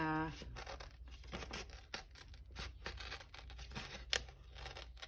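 Scraps of printed digital paper being cut out with scissors at a crafting table, with close, busy snipping and crinkling paper handling throughout, under a low steady background hum.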